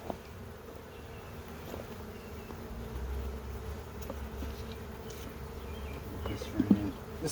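Honey bees buzz steadily around an opened hive during a spring inspection, a continuous low drone with individual bees passing close now and then and a brief louder flurry near the end.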